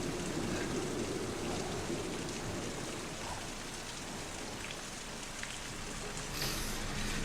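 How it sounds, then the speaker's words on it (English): Heavy rain drums down in a stormy shipboard scene at sea, a dense, steady wash of pattering noise that holds at an even level throughout, with no voices over it. "It's coming on to blow, sir, and the rain is thickening."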